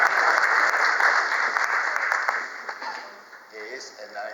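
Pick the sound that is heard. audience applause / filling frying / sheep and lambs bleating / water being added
audience applause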